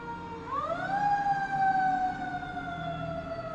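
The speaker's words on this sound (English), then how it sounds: "You might hear a fire engine go by a couple of times" Siren of a fire engine from a station half a block away, its tone sweeping upward and then holding a steady wail as it passes nearby.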